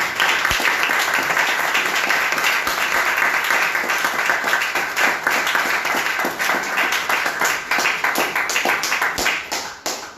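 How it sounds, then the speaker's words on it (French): A church congregation applauds during a Sunday service, a dense, sustained burst of many hands clapping for about ten seconds, loud and reverberant, fading slightly at the end. "On acclame encore le Seigneur."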